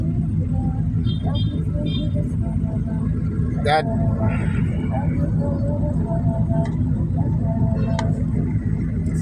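Low, constant rumble of road traffic in a congested jam, steady and close, with occasional faint higher tones and a brief knock, under someone talking.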